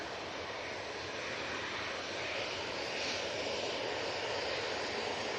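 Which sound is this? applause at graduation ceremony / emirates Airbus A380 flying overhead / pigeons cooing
emirates Airbus A380 flying overhead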